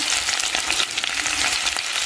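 Potatoes fry in hot oil with cumin seeds and curry leaves, a dense, steady crackling sizzle that fills the whole moment with no voices over it.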